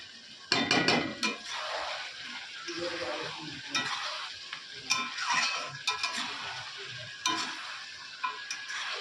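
Chicken masala frying and being stirred in a pan, with a steady broadband sizzle, repeated scraping and clinking of the utensil against the pan, and a few sharp metallic knocks, all close and without speech.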